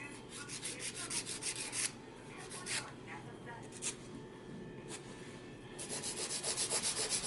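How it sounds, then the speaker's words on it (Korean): A nail file rubs crosswise over a gel nail surface in quick rhythmic strokes, some bursts denser than others with short pauses between. Faint speech sits underneath. "표면 화일링은 지금 작업처럼 가로 작업으로 해서 이렇게 세우면서 작업을 둥그렇게 만들겠습니다"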